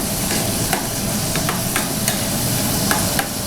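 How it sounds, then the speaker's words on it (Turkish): Onions sautéing in a pan, with a steady sizzle of frying and repeated light scrapes and clicks from stirring throughout, close and fairly loud, with no voices. "Şimdi iç için soğanlarımızı kavuruyoruz."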